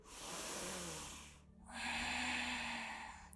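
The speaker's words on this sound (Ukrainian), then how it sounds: "і заключний глибокий вдих, трохи вищий, глибше" A long, deep inhale drawn through the nose during yoga practice, breathy and close, followed after a brief pause by a second long airy breath.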